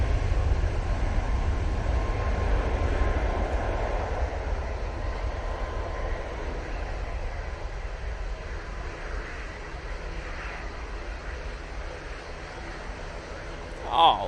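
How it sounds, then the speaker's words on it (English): A Virgin Atlantic Airbus A330 comes in to land at Manchester Airport, a low, steady distant engine roar that slowly fades, with a brief faint sound near the end. "Virgin A330 coming in from Atlanta now."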